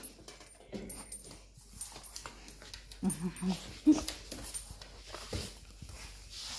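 A pet dog whimpers and whines softly indoors in short, faint bursts while someone speaks affectionately nearby, with breathy snuffles and light rustling throughout.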